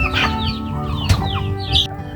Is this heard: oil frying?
no